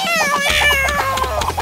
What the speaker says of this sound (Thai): แล้วแมวล่ะดูสิ